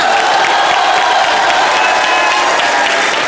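A large studio audience at a TV comedy show gives loud, sustained applause, a dense, steady wash of clapping that fills the room without pause.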